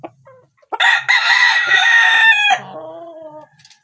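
A hen on a farm gives a loud, drawn-out clucking call lasting nearly two seconds, followed by softer, lower clucks that trail off, close to the listener with quiet gaps before and after.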